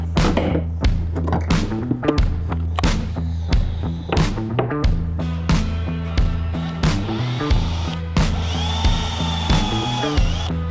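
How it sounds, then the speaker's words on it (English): A power drill boring holes for a boat hatch during a refit, with a loud, close run of repeated bursts and clunks. A high whine rises near the end. "let's drill the holes and clean that up"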